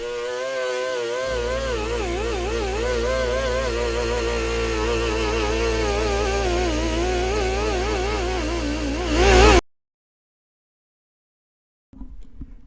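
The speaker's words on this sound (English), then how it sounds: "I was really surprised how much rust dust got in the air when I was wire brushing this oil pan" Wire brushing rust from a 1977 Corvette oil pan, sped up, gives a continuous loud buzzing, warbling power-tool drone for about nine seconds before cutting to silence, with a brief faint noise at the end.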